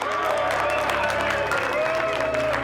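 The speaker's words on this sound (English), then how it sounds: "Applause for everybody." Film crew applauding on set at the end of a shoot; a steady wash of clapping, fairly loud and continuous, with a voice or tonal sound running faintly underneath.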